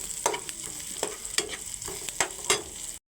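Vegetables and garlic are stirred in a hot frying pan until golden brown, with a continuous sizzle broken by regular scraping strokes of a spatula about twice a second, close and clear, with no talk.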